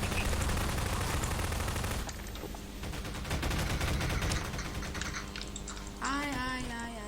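Rapid automatic gunfire in Garry's Mod crackles in dense bursts, loud and continuous, with a brief voice or tonal sound near the end.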